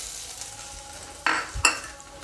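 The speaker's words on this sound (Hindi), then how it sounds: "ऑयल गरम हो गया है, अब मैं उसमें जिंजर पेस्ट डाल रही हूँ।" Ginger paste hitting hot oil for a stuffed capsicum dish, a sudden loud sizzle burst followed by a second sharp spatter, over a faint background hiss, with no talk.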